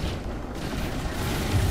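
Frag cannons on a spaceship in the game Elite Dangerous unload in a dense, continuous barrage of heavy booming blasts, loud and close, with no talking.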